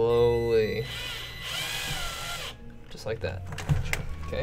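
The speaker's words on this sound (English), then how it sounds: "So pull the drill towards the case." A power drill drives screws into a PC case during a server build, with a steady motor whir lasting about a second and a half, surrounded by nearby talk.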